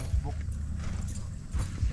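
Horses hauling loads at a tent-site work area, their hooves giving a few uneven clip-clop thuds under steady nearby talk.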